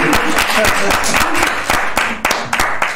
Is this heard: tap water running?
no